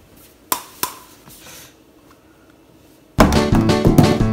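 Balls thrown at a homemade cardboard carnival ball toss game land with two sharp thunks in quick succession, followed by faint taps, before a louder burst of sound takes over.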